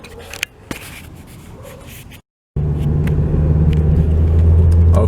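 Car driving along Highway 13, a wooded stretch of highway between Oakland and Berkeley, heard from inside as a steady low road rumble and engine drone that grows louder after a brief silent cut, with a few scrapes near the start.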